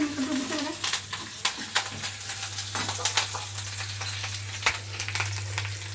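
Cumin, garlic, dried red chillies and curry leaves crackle and sizzle in hot oil while a spoon stirs and taps the pan, a busy close frying texture over a steady low hum, with no talking.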